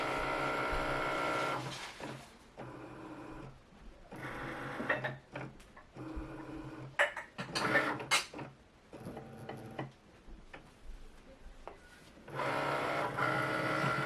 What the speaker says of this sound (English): the machine is actually looking for this black registration mark, so it makes sure that it's cutting in the right spot